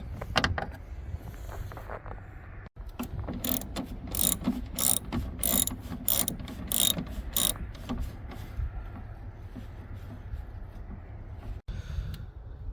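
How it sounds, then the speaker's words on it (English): A ratchet removes screws from the fender of a Chrysler Town & Country, giving rapid clicking pawl bursts in several close, fairly loud runs with brief pauses between them. "So you want to just remove these 4 screws."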